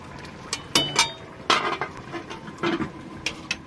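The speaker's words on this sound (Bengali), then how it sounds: "দেখুন আমি আরেকবার একটু ঢেকে দেবো" Clinks and clatter of a metal lid settling over a cooking pot of potato and drumstick curry in a home kitchen, several sharp short knocks spread across a few seconds with quiet gaps between.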